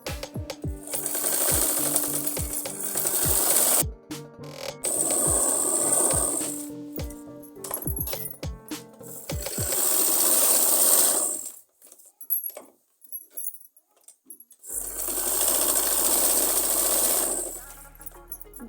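A sewing machine runs in loud bursts of rapid stitching while sewing a pahuncha trouser-hem design, with short pauses and clicks between runs and a longer stretch of quiet before the motor starts again.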